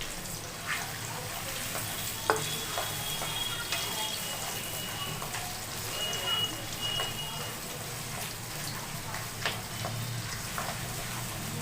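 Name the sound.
whole dried red chillies frying in oil for mutton curry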